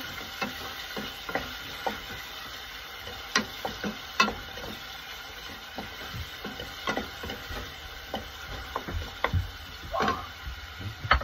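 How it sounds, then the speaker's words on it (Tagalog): Garlic sizzles softly in a pan in the galley of a Moody 425 sailboat. Irregular scrapes and taps from stirring come through close to the microphone. "Halo-halo lang konti, tapos isunod na yung bawang."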